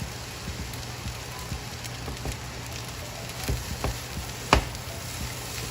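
Shrimp fried rice with green onion is tossed in a hot frying pan, making a soft steady sizzle broken by scattered scrapes and clacks of the utensil, close and without talk.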